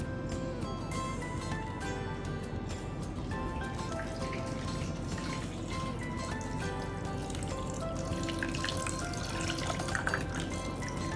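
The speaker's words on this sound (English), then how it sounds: "on the pot, we should put a 2/3 of water on it" Water pours steadily into a pot that is being filled about two-thirds full for sterilizing baby bottles, making a continuous splashing, trickling flow that grows slightly brighter toward the end.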